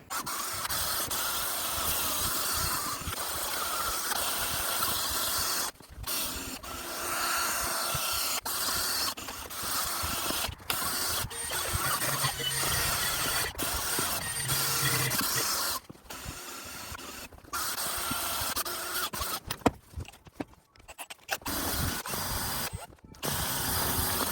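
A buffing wheel polishes dull aluminum slot-style car wheels in a shop, giving a continuous harsh whirring hiss that cuts out briefly several times as the tool is lifted, with a few short gaps of near silence.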